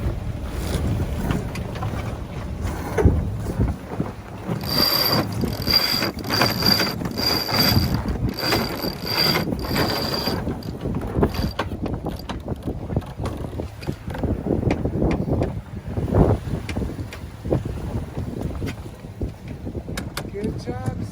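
On a sailboat tacking in Southern California, sheets run and ratchet through pulleys in bursts of clicking and whirring amid wind noise and boat creaks, while people talk on board.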